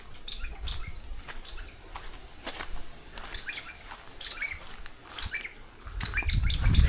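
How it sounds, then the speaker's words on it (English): Jungle birds on Ometepe, Nicaragua chirp and call again and again, with bursts of shrill tweets over a rustling outdoor background that grows louder toward the end; no one speaks. "Shut up, birds."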